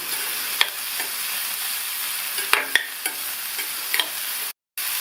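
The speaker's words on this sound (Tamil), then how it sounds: "காய்கள்லாம் சேர்த்து வதங்கும் போதே இந்த காய்க்கு தேவையான அளவு உப்பு மட்டும் சேர்த்துட்டு வதக்கி" Vegetables with salt sauté in a pan for upma, giving a constant bright sizzle with occasional sharp clicks of a spatula stirring against the pan. Nobody talks, and the sound cuts out briefly near the end.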